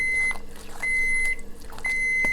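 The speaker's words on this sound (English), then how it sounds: "That's my oven saying it's ready to do its job" A kitchen oven beeps three times to signal it has finished preheating: loud, steady electronic tones spaced about a second apart, with faint kitchen clatter in between and no talking.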